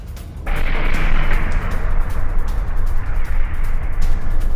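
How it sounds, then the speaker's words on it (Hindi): An Israeli missile strike in Nablus erupts as a sudden loud blast after a brief quiet moment, followed by a sustained rumbling roar with crackling bursts that holds steady for several seconds. "नेबुलस को एक बार फिर इजराइल ने मिसाइल अटैक से दहला दिया है।"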